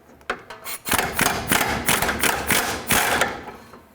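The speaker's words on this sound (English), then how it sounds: "Okay, the locking pliers are on there. Let's try and take this off." Locking pliers work a sway bar link nut off the front suspension of a 2007-2010 Chrysler Sebring, a series of close metallic clicks and ratcheting scrapes in uneven bursts.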